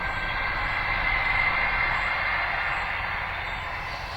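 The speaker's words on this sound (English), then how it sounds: "Always trains turning up at the inopportune moments." A steady, loud rumble of a train rolling past nearby in the countryside, a continuous broadband roar with a faint high whine, easing slightly toward the end.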